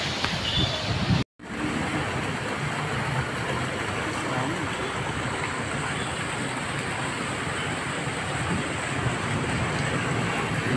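Heavy rain pours during a stormy spell with strong wind and flooding, a loud, steady, dense roar that runs almost unbroken, with one brief dropout early on.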